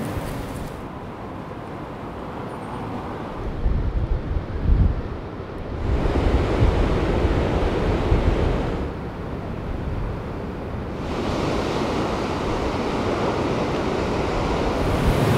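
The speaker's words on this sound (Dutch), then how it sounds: "Mooi gezicht hoor, die golven die zo tegen de rotsen aan beuken aan de kust. En het waait ook hartstikke hard hoor" Waves crash and surge against coastal rocks on the Algarve coast of Portugal under strong wind buffeting the microphone, a loud continuous roar rising and falling in broad swells.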